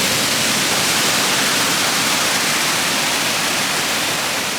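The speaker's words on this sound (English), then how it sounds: "Waterfall number 3 is a wide and powerful fall named Sgwd y Pannwr" Sgwd y Pannwr, a wide and powerful waterfall in the Brecon Beacons, roaring as a dense, constant wash of falling water, loud and close with no voices.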